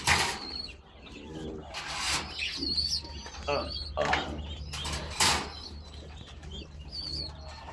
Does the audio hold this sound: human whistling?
no